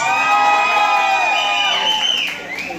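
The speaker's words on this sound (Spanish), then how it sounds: "Aplausos para la Batichica número 2." A Halloween nightclub crowd cheers and whoops loudly, a dense wash of shouting voices with shrill rising cries over a sustained musical tone that fades near the end.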